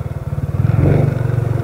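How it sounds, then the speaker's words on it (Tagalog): A Honda CRF 150 dirt bike, ridden on the road to Paniman beach in Ternate, Cavite, runs close by with a steady pulsing idle that briefly swells into a short rev before settling back to the same throb. "naka CRF 150 yan pang Paniman talaga yan guys"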